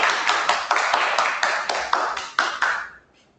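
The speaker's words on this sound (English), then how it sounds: "Let's have a round of applause for Mehak." Applause at a Toastmasters meeting, a quick stretch of close, hand claps from a small group that fades out near the end, leaving near silence.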